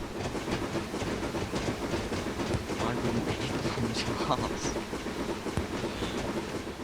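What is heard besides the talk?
steam train running, from the video game Train Simulator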